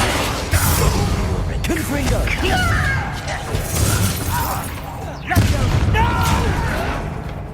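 Confringo fire-spell blasts go off during a Hogwarts Legacy video game battle: several sharp booms and bursts, each followed by a rumbling tail, mixed with voices and game sound throughout.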